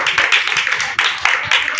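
Small church audience at a Hindi Christian teaching session clapping in uneven bursts, fairly close and moderately loud, with a couple of brief pauses between rounds of claps.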